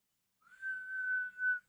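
A person whistles one steady, clear, fairly high note held for about a second, with a brief swell near the end before it cuts off, heard alone and close.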